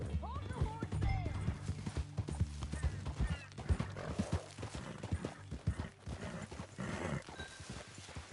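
Horse hooves clip-clopping and a horse whinnying in the video game Red Dead Redemption 2, a steady trotting rhythm near and clear, with a neigh early on and other game sounds mixed in.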